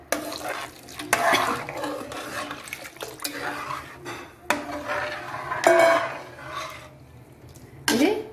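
Coconut milk heats in a pan for samba wheat payasam while a spoon stirs it, making repeated close scraping and clinking against the metal over a soft bubbling sizzle, with no talk.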